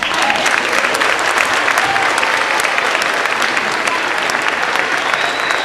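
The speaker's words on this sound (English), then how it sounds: "Let's give our students another grand round of applause for that fabulous holiday performance" A school audience applauds students after a holiday concert, sustained and loud close-up clapping that stays even throughout, with a faint crowd murmur underneath.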